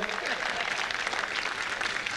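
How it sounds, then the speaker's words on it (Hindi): Audience applause at a Hindi comic poetry gathering, the Mahamoorkh Sammelan, a dense, steady wash of clapping from a crowd that holds at an even level for a couple of seconds with no talk over it. "ताली वाली बजाएंगे डर के मारे।"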